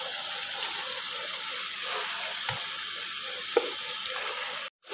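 Fried potatoes and capsicum hit hot masala in a pan, a soft steady sizzle with a couple of brief clanks of a spoon before a sudden drop near the end.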